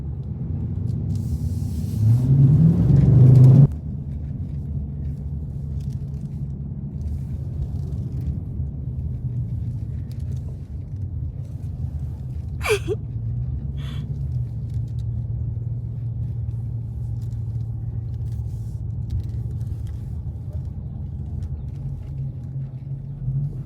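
A Dodge SRT pulls out in a convoy of six, heard from inside as a steady low engine rumble and road drone, with a brief louder burst and hiss at the start and a faint high squeak midway.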